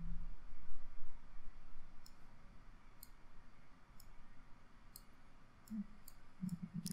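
A computer mouse gives a handful of small, sharp clicks spaced across a quiet stretch, with a low room hum beneath and a brief faint murmur near the end.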